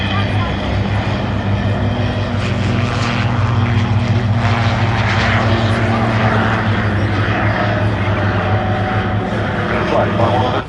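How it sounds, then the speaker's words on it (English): An autogyro takes off at the Duxford summer air show, its steady droning propeller and engine filling the whole stretch, loud and continuous, with a public-address commentator talking over it. "Following them off is the Autogyro"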